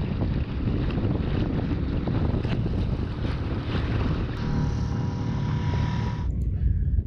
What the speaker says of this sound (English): And the wind's got up.